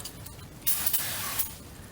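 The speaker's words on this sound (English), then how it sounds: "get brake parts cleaner and spray it all over the surface there of that hub" An aerosol can of brake parts cleaner sprays onto the wheel hub of a 2014 Chevy Cruze Diesel in one hissing burst of about a second, close up, with a faint metallic clink.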